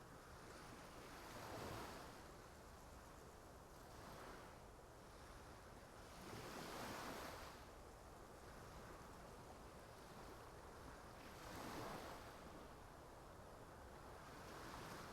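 Ocean waves roll onto a shore at the sea in the video game Love and Deepspace, a continuous wash of surf swelling in slow, regular surges every few seconds, with a breezy hiss and no voices.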